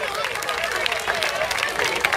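An outdoor gathering at a plant nursery claps for Pistoiese youth football teams, a brisk patter of many hands applauding at a moderate distance, with a murmur of crowd chatter underneath.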